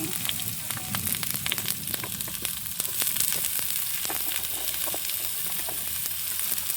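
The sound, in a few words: bay leaf and kangkong stems sizzling in a frying pan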